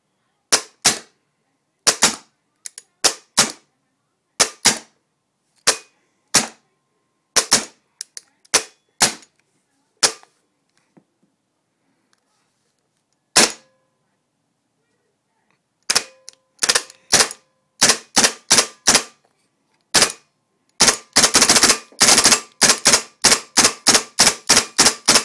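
A CVM973 Karnivor toy blaster firing balls with sharp, loud, close pops, at first spaced out one by one with pauses between, then speeding into a fast rapid-fire burst near the end.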